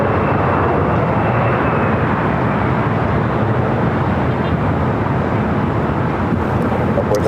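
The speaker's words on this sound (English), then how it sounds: "That was Delta Airlines flight heading to Boston in that old TWA 757-200, 27 years of age" A 27-year-old Delta Boeing 757-200 jet airliner, formerly flown by TWA, passes at LAX as a steady, loud, broad engine roar with wind buffeting the microphone.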